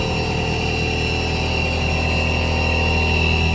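A Roots blower feeding air to a melt blown polypropylene filter cartridge production line runs as a loud, steady mechanical drone with a constant hum and whine, unbroken and close, with no talk.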